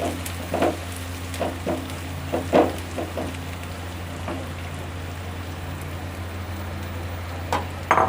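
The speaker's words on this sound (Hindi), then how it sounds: "प्याज को लाइट सा गोल्डन करना है," Onions frying until golden in a pan, a steady sizzle with scattered crackles and pops throughout, with no talk over it.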